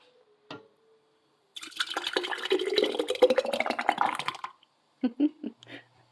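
Hot spaghetti sauce is poured into a canning jar in one continuous glugging, splashing pour of about three seconds, close by. A brief knock comes before it and a few small clinks and thuds follow.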